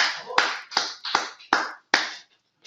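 Six sharp hand claps ring out close and loud at a slightly uneven pace, each with a short decay, followed by brief silence.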